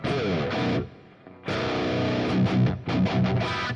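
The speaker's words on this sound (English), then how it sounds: "I'll grab the 7-string this time. So the difference in tone between, I've actually got a sound in here that sounds quite similar to it. So this is a nice straight up distortion." A 7-string electric guitar plays riffs through a straight distortion tone, thick and saturated with chugging palm-muted bursts. A short pause falls near the start, and it is heard alone without speech.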